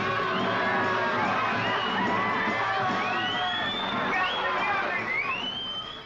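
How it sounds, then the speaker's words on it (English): A street crowd of hippies gathering in 1967, dense overlapping shouts, whoops and chatter from many voices, loud and continuous with rising calls throughout. "The crowd grows."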